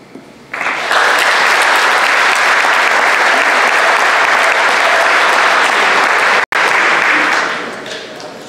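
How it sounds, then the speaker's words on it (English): An audience at a signing ceremony claps loudly and steadily for several seconds, then the applause gradually fades out. "Keep it going for Morgan"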